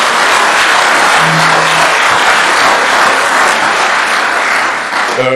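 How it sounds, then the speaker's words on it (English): Loud audience applause for an honoree at the opening ceremony of a scout conference, a dense sustained roar of clapping filling the hall with a brief tone near the start. "Can we have a very loud applause for Victor?"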